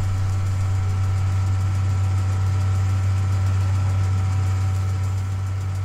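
Tractor engines running in a farming video game, a steady loud idling drone with a deep constant hum and no change in pitch, heard alone without voices.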